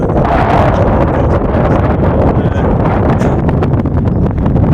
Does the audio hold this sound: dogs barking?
no